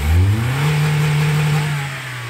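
A car engine is held at wide open throttle with a restricted exhaust. The rev rises quickly, then holds at a steady, strained drone close by, sounding choked and lacking power.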